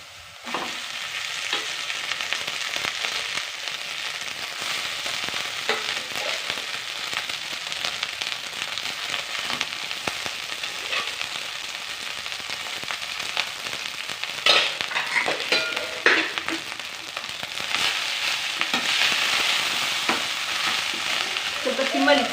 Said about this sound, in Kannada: ಮೊದಲೇ ರೈಸ್ ಮಾಡಿಟ್ಟಿರೋದನ್ನ ಹಾಕ್ಕೊಂಡು ಕಲಸೋಣ.